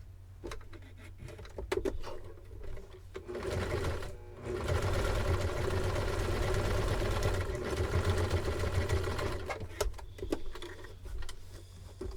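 A sewing machine top-stitches fabric for a Kwik Sew K4203 pattern, its motor whirring in steady runs broken by brief pauses and clicks, fairly quiet and close.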